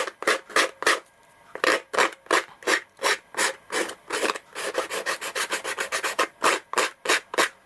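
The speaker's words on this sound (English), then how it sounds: "and sand down the edge as well to make it a little bit neater." Emery board sanding the edge of a paper journal page, quick rasping strokes close by, first in steady separate pulses, then a faster run of short rubs, then slower strokes again, with no talk.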